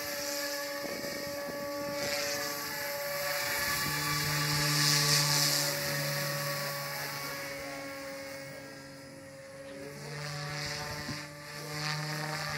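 A helicopter drones steadily with strong low harmonic tones, a continuous mechanical rotor whir that swells slightly midway and holds without speech.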